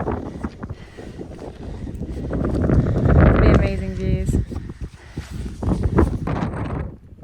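Strong wind gusts across a mountain summit in the Lake District on a hike over Fairfield and St Sunday Crag, rising to a buffeting roar in the middle while a person talks briefly.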